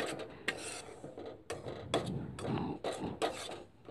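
A fish bait mixture is stirred in a pan, giving repeated close scraping and rubbing strokes against the metal. The strokes come in an irregular rhythm with no voices.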